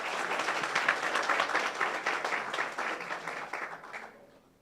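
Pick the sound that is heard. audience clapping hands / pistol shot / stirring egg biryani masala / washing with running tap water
audience clapping hands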